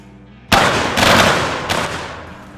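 Musket volley gunfire in the video game Mount & Blade: Warband, Civil War mod: a loud sharp volley bursts out, then a second ragged wave of shots follows, with a later crack echoing over a rolling, decaying battle roar.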